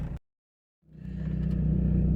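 A cammed Renault Clio 182 Trophy sits silent for a moment after a brief burst of sound, then its engine rises into a steady, loud, throbbing drone as it pulls away.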